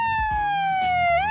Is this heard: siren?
yes